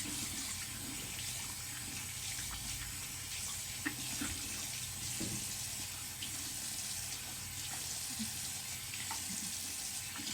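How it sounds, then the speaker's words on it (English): Cold water runs steadily from a tap for rinsing after a wet shave, a continuous even hiss that stays moderately quiet with no talking over it. "cold water rinse"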